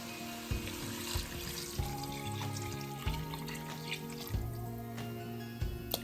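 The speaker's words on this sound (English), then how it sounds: "And then we are going to be going in with some water." Water runs and splashes steadily into a cooking pot of vegetable soup, with hissing sizzle underneath and occasional clinks and knocks throughout.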